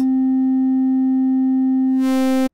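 A steady, pure synthesizer sine wave tone hums at a constant pitch, then turns buzzier and brighter just before it cuts off abruptly.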